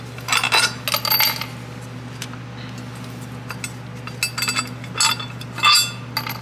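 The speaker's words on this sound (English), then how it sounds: "Remove the bolts first." Metal bolts clinking and rattling as they are taken off an engine bracket on a 1999–2009 SAAB 9-5 during a serpentine belt idler pulley job, several sharp clicks and taps in short bursts over a steady low hum, fairly close.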